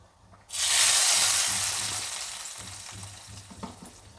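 Hot ghee poured into a pot of boiling tomato bele bath, giving a sudden loud sizzling hiss that bursts up and then slowly fades into a softer crackle over a few seconds.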